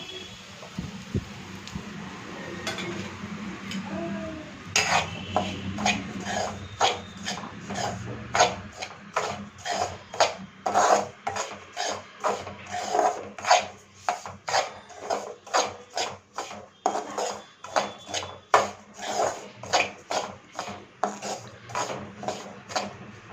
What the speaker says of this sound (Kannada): ಈಗ ರವೆ ಹಾಕ್ಕೊಳ್ಬೇಕು ರವೆ ಹಾಕ್ಕೊಂಡು ಸರಿಯಾಗಿ ಹುರ್ಕೋಬೇಕು ಕೆಂಪಗಾಗತ್ತನ